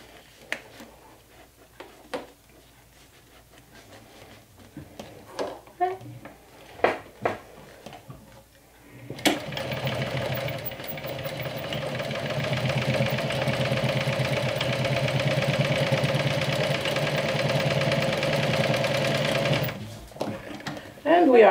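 A sewing machine stitches down the woven strap of a Swoon Sadie bag in a steady, close, continuous run lasting about eleven seconds, after a stretch of quiet handling clicks and rustles.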